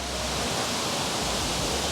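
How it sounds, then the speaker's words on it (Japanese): A waterfall beside a mountain road gives a steady, dense, full-band rush of falling water, loud and unbroken, with no talking. "滝がないなって思っとったらありましたわ"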